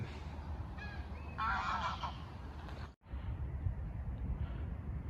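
A flock of geese honks at a distance in a large green park in Hannover, Germany, the calls clustering briefly in the first half before fading into continuous outdoor noise.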